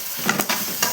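Onion, ginger garlic paste and finely ground tomato paste sauté in a pan for roadside kaalan, with a bright sizzle broken by a few quick scraping stirs.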